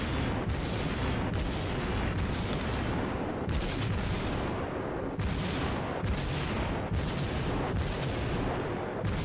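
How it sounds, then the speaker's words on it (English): A Kuma cruiser, a Tier 4 warship in World of Warships, fires a continuous barrage of naval gun salvos. Loud booming volleys repeat in quick succession with almost no pause, over a constant rumble of battle. "look at that barrage. Barely even have a stop between the loading and the firing"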